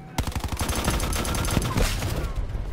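Sustained automatic gunfire in Call of Duty Blackout, a fast continuous stream of loud, close shots that starts abruptly and keeps going to the end.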